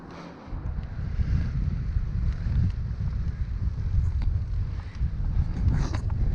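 Strong headwind buffeting the microphone during a road bike climb up a gradual hill, a steady loud low rumble of wind noise throughout with no talking.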